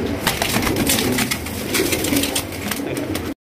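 Silver Lakka pigeons cooing among other pigeons for sale, a steady low murmur of coos under a dense, busy background with voices talking throughout.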